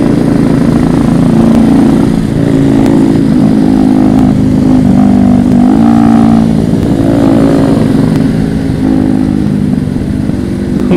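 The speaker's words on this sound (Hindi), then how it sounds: "अच्छे से मॉडिफाइड किया है NS 200।" A modified Bajaj Pulsar NS 200 motorcycle revs loudly and continuously nearby on a group ride, its engine note rising and falling through repeated throttle blips with no talk over it.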